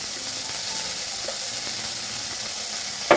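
Raw and ripe karamcha fruits frying in a pan for chutney give a steady, even sizzling hiss, with a couple of small clicks and one sharper tap at the end, no voices.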